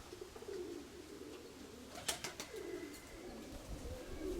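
Pigeons coo in low, soft repeated phrases in a dovecote kept by a pigeon fancier, with a black dove among white birds, while a brief clatter of wings or movement breaks through midway.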